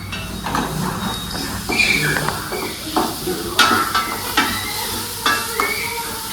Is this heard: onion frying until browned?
yes